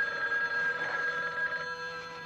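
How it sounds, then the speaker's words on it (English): A telephone bell rings in a 1980 horror film trailer, giving a sustained, bright electric trill that holds steady for a couple of seconds with no voices over it. "don't answer the phone."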